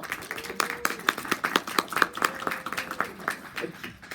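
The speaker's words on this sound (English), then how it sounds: "I keep forgetting to hold for the applause" Sparse clapping from a small convention panel audience at New York Comic Con, a thin run of distinct hand claps, some quite close, mixed with a few voices and fading out toward the end.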